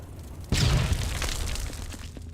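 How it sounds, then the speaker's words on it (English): A single grenade explosion in the video game Judge Dredd vs. Death bursts suddenly with a muffled boom, then fades into a rough, lingering rumble of debris and noise. "The explosions leave something to be desired in this game. I mean, the grenades."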